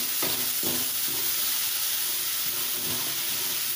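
Beetroot and cabbage softening in an oiled pan give a steady, soft sizzle with a few light scraping stirs, heard up close with no talking.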